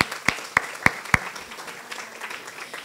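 At a gala dinner, several sharp, evenly spaced hand claps ring out close by, followed by softer, scattered applause from the room that fades away.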